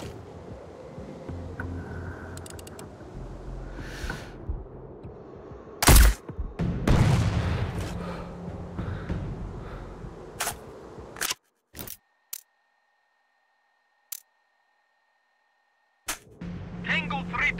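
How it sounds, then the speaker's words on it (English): Gunfire and explosions in the Sniper Ghost Warrior Contracts video game at the Arakcheyev fortress, with a rumbling blast near the middle, sharp cracking shots, background wind and ambience, then near silence broken by brief clicks. "I heard an explosion."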